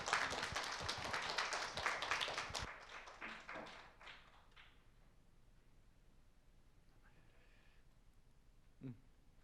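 An audience at a church women's group lecture gives loud, dense applause that fades out after about four seconds, leaving a quiet room with a single faint thump near the end.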